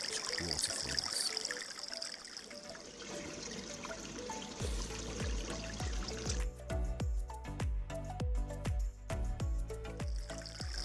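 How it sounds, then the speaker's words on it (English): A koi pond waterfall runs with a steady trickling, splashing flow of water close by. Midway through, a series of sharp knocks or clunks join the water sound. "So now the waterfall's back up and running again"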